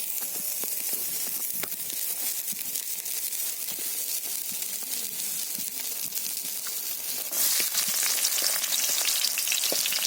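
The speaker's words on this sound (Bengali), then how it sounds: "তেলের মধ্যে আমি পেঁয়াজ দিয়ে দিয়েছি।" Onions fry in hot oil in a wok, giving a steady, close sizzling hiss dotted with small crackles and pops that grows louder near the end.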